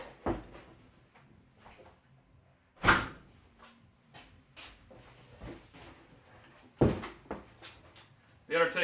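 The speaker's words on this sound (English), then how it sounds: "Let me go close this door." A door being shut indoors, a couple of sharp thuds standing out amid ongoing casual talk from people in the room.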